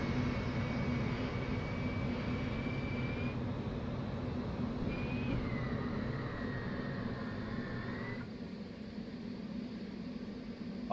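A fighter jet engine runs in the DCS flight simulator game, a steady whining roar with thin gliding tones that shift pitch over the constant rumble, heard alone without talk.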